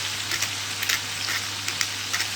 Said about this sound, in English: Fry it together